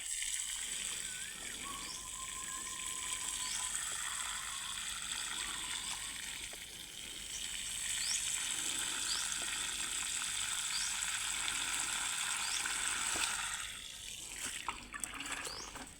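Water poured into a vegetable-growing basin, a water-bank tub, and seeping out through holes in its side, a steady continuous trickling and splashing that stays fairly even throughout with no talk.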